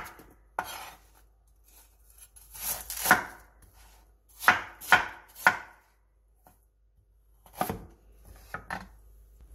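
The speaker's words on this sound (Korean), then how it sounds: "배 8분의 1개, 생강 1토를 큼직하게 잘라주세요." A kitchen knife coarsely chops pear, ginger, onion and apple on a cutting board for kimchi: irregular, crisp chops, some single and some in quick bursts of three or four, separated by short pauses.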